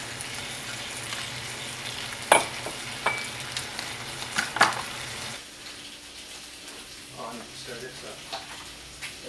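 Eggs for an omelet being stirred in a hot frying pan, a soft steady sizzle broken by a few sharp utensil scrapes and clinks in the first half, then a quieter hiss with faint tap-like water noise.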